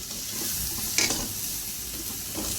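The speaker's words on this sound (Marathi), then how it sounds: "हे सगळं गूळ विरघळेपर्यंत व्यवस्थित परतून घ्यायचं आहे" Grated coconut and jaggery are stirred and sautéed in a pan, giving a steady hiss and sizzle with one sharper scrape of the spatula near the middle, close by.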